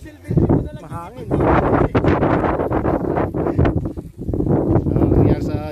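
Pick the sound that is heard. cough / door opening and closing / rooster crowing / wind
wind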